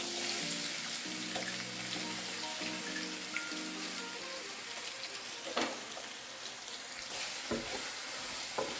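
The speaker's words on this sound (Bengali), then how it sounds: "পেঁয়াজ কুচি দিয়ে জাস্ট হাফ মিনিট মতো আমি ভুনে নেব একটু তেলের মধ্যে" Chopped onion frying in oil in a village Bengali vegetarian kitchen, a steady crackling sizzle with soft stirring scrapes and a few louder clinks, no voices.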